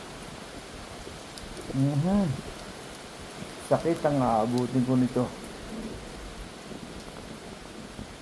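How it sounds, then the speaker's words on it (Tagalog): Heavy rain pours at Barr Lake State Park, Colorado, a steady close hiss running through the whole stretch while someone talks over it in two short bursts. "Ang lakas ng ulan."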